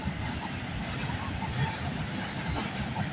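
A CN freight train rolls past at night out of London, Ontario, heard as a steady, rumbling wash of wheel noise with faint squealing and clatter, continuous and fairly distant.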